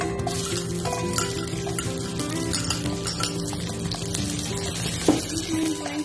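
Onion sautéing in olive oil in a pan for a Filipino fish dish, a moderate sizzle mixed with tonal background hum and occasional light clinks of utensils, one sharper knock near the end.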